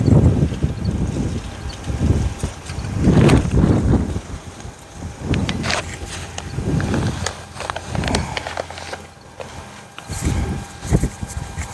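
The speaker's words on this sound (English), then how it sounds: "Wind is wicked." Strong gusty wind blowing outdoors in a garden, loud buffeting rumble against the microphone that swells and fades in waves for the whole stretch.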